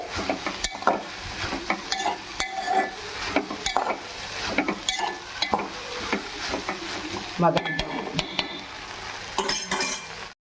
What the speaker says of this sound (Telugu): బాగా మధ్య మధ్యలో తిప్పుకుంటూ ఉండాలి.